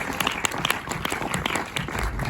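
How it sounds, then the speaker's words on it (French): A cinema audience at the Méliès in Montreuil claps for a film's crew, a fairly quiet spread of individual claps with a few sharper, nearer hits standing out. "on peut les applaudir également"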